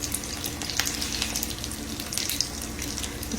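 Cornbread batter frying in hot grease in a pan, with a steady broadband sizzle and sharp crackling pops scattered throughout, close and fairly loud.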